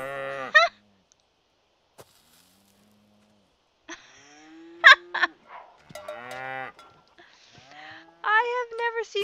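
Cow mooing in The Sims game, several short, close lowing calls scattered with gaps, some voiced with a bleating quality, against otherwise quiet game sounds.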